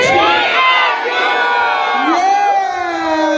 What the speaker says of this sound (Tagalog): Sabay-sabay tayong sumigaw ng GLU.